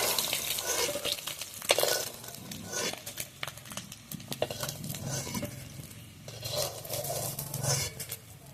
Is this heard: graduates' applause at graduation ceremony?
no